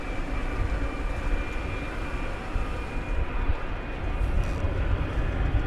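An airliner on runway 17 Center at DFW Airport at night produces a loud, steady, low engine roar that holds constant throughout, with no talk over it.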